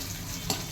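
Garlic cloves being stirred in hot ghee in a pan, a soft steady sizzle with one brief louder scrape of the spoon partway through.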